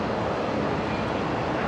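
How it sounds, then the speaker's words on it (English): Link Airways Saab turboprop departing Brisbane Airport off runway 01 right, heard as a steady broadband engine roar with wind buffeting, loud and unbroken. "we've got a Link Airways Saab heading out. That's actually departing."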